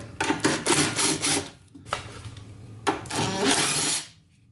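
Screws being backed out of the cover of a Chamberlain chain drive garage door opener, several bursts of whirring, rasping driver noise separated by short pauses, close and fairly loud.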